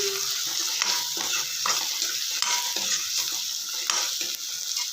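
A spoon stirs softened tomatoes with turmeric powder in a pan for a green beans palya, giving irregular scraping and clinking strokes over a steady sizzle, with no talking.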